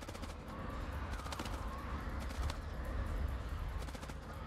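Distant, muffled bursts of gunfire in the video game House of Ashes, a steady stream of shots layered under faint crow-like calls, fairly quiet throughout.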